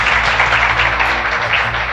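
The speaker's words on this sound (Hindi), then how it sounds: "ताली के साथ स्वागत करें।" Audience applause at a seminar welcoming a cash prize winner, steady dense clapping from a large hall filling the whole moment at even loudness.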